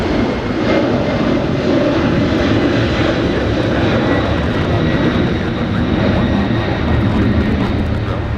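An airliner departs LAX bound for New York JFK, its engines giving a loud, sustained roar with a broad rumbling low end and a faint whine above, steady for several seconds.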